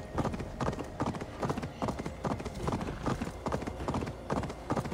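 Steady clip-clop of horse hooves in a video game, Assassin's Creed Valhalla, at a brisk rhythmic pace, close and even, continuing throughout without pause.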